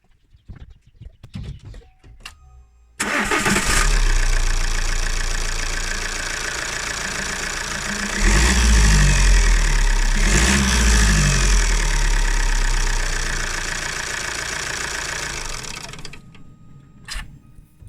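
A 2013 Opel Insignia 2.0-litre turbo engine with a boost fault cranks and catches after a few seconds of rustling, then settles into a loud, steady idle with a brief revving swell midway before shutting off, recorded up close.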